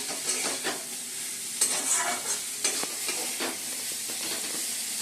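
Egg and carrot frying in a pan for chowmein, an even close sizzle with a run of soft scraping stirs and clinks, no one speaking.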